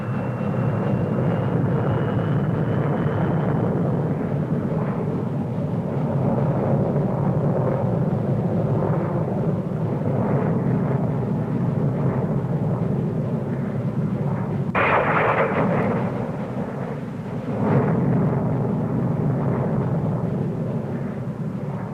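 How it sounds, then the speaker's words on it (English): A Saunders Roe SR-53 mixed-power interceptor, with an Armstrong Siddeley Viper jet and a de Havilland Spectre rocket, takes off under rocket power at a 1950s Farnborough airshow. It makes a loud, steady roar throughout, with a sharp surge about two-thirds of the way in. "Taking off with the rocket going now."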